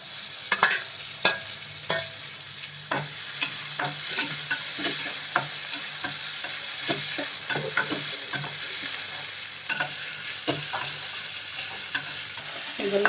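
Onions and tomatoes sauté in a pan for mutton kothu parotta. A constant sizzle plays under frequent sharp clinks and scrapes of stirring, close and with no voices.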